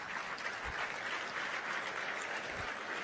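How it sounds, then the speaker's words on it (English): A crowd at a convocation ceremony claps in a steady, dense burst of applause that lasts the whole short stretch, with no one speaking over it. "Lavi Agrawal, Mahima Saxena, Mayank Bansal, Keep the applause coming, please."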